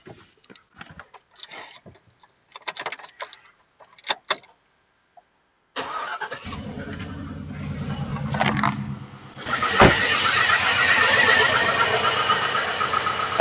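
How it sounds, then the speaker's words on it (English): A car engine cranks and catches, then settles into a steady low idle with a loud, constant hiss from under the hood, during diagnosis of a suspected bad fuel pump. "Let's go ahead and start the car at idle,"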